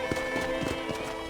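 Horse hooves clip-clopping at a steady trot in the video game Red Dead Redemption, rhythmic and moderately soft, with faint game music tones underneath and no talk.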